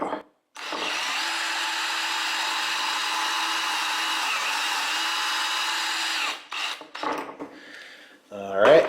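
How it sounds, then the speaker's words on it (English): A power drill on high speed whines steadily for several seconds as it bores a pocket hole into wood, then stops, followed by brief handling clatter. "set your drill to high speed and then go for it"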